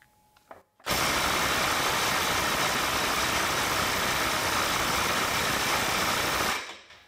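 A Ryobi P262 cordless impact wrench runs at 650 foot-pounds, a loud, dense, continuous hammering rattle that starts abruptly and holds steady for almost six seconds before cutting off, close up with no voices.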